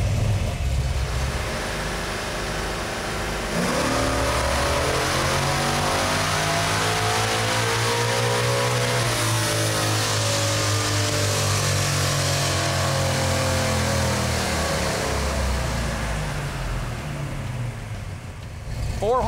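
A 1977 Ford Granada engine running on a dyno with a 125 nitrous shot and a very full exhaust roars as it revs up steadily, loud and close, then falls back, with talk faintly underneath.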